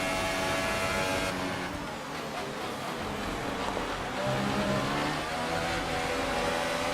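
An F1 car on the back straight in F1 2018, with DRS open and the ERS in overtake mode, roars at a steady high pitch under rushing wind, with a gear shift partway through.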